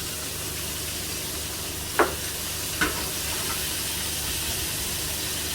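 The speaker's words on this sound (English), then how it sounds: "We're going to leave that to fry for 2 minutes." Asparagus spears fry in a hot pan with a sprinkle of salt, giving a steady, even sizzle and hiss, broken by two sharp pops about a second apart.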